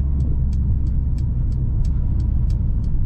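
A 2021 Mercedes-AMG GLA45 4Matic+ crossover with a hand-built turbocharged 2.0-liter inline four accelerating hard, a loud continuous low engine roar heard alone, with faint repeated high clicks above it.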